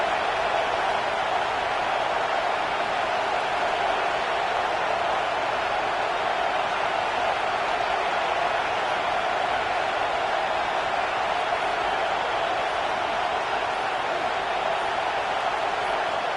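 A college football stadium crowd in College Football 26 roars early in the game as a steady, unbroken wash of noise. It holds a constant loud level from start to finish, with no distinct voices.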